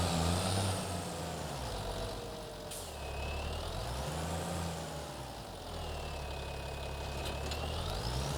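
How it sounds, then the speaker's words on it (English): A tractor engine idles in a farming video game, a loud continuous diesel rumble with slow swelling and dipping tones, a brief air-brake-like hiss around three seconds, and no talking. "And now I'll jump on the other tractor."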